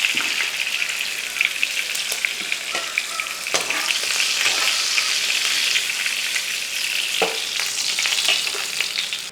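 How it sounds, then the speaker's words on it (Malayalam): Fish pieces fry in hot oil, giving off a bright, steady crackling sizzle close by, broken by a few sharp pops and the clatter of turning the pieces. "തിരിച്ച് മറിച്ചൊക്കെ ഇട്ട് 2 സൈഡും ഒന്ന് ഫ്രൈ ആക്കി എടുക്കുക."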